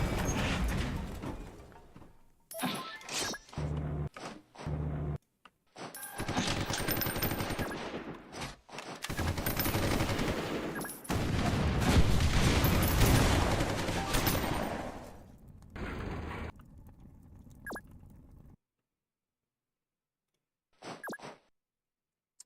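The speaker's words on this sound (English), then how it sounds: "They have artillery as well." Bursts of artillery and gunfire in the Roblox game Noobs in Combat come in choppy clusters of sharp blasts separated by silences, loud in the middle stretch and thinning to a few isolated shots near the end.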